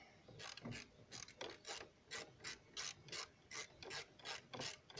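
A ratchet wrench tightens the side mirror fastener on a 1993–1996 Ford Mondeo, giving a series of rhythmic clicking bursts, about ten close strokes in steady succession.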